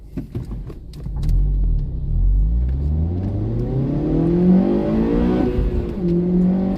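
A Honda car engine revs hard as VTEC engages, the loud rumbling note climbing steadily in pitch through the gears with rising and falling sweeps, close and dominant throughout.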